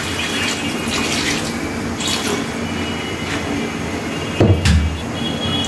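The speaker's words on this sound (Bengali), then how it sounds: "এখন মাছগুলো দিয়ে দিচ্ছি, দিয়ে পরিমাণ মতো ঝোলটা দিয়ে দিচ্ছি।" Fish pieces and gravy poured into a pot of browned spiced masala for a Bangladeshi fish curry, giving a steady wet splashing and sizzling wash with a brief louder slosh near the end, no talking.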